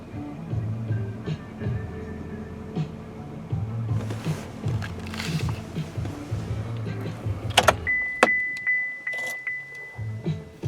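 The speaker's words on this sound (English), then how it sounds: "What you are hearing is the new rear seat reminder." Inside a GMC Sierra 2500HD or 3500HD pickup, a clear electronic chime pings steadily several times at the rear seat reminder, following cabin noise and faint door or window movement, with no talk over it.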